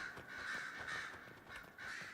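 Crows in a video game cawing repeatedly, harsh nasal calls in quick succession, fairly close and prominent with no talking.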